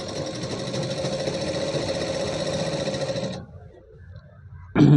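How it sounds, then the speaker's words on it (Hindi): A tailoring sewing machine stitching both trouser leg hems at once, running in a loud, steady, close whir that stops suddenly, then a brief clunk after a short quiet. "इससे क्या होता है, एक साथ ही दोनों पाइचे हम सिल सकते हैं"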